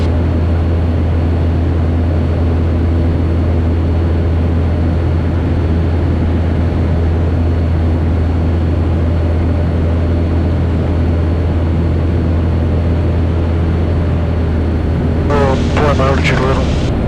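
A small airplane's engine drones steadily and loudly from inside the cabin as power is eased back to slow for landing, a constant hum with a brief voice near the end.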